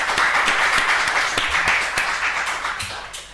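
Steady applause from an audience at an academic lecture, many hands clapping densely and evenly, fairly loud throughout and tapering slightly toward the end.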